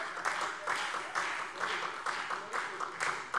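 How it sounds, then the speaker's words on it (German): Applause from the SPD group in the Hesse state parliament during a plenary session, a sustained, moderately loud patter of many hands that swells in waves with no speech over it. "Beifall der SPD-Fraktion"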